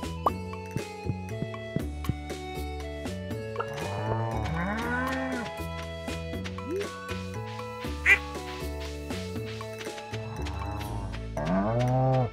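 Farm birds on a Stardew Valley farm: repeated quacking calls scattered over a gentle tonal game melody, moderately close with small plopping sounds between them.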